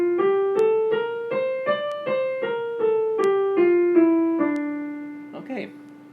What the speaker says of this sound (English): This is the D natural minor scale.